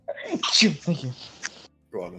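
A single sharp sneeze bursts out close by, followed by brief conversational speech from people nearby.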